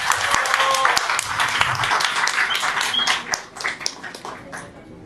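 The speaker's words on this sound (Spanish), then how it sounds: "un fuerte aplauso por favor para el señor fiscal" An audience at a feminist talk on judicial reform applauds a prosecutor, a scattered, moderately loud clapping that thins out and fades over a few seconds.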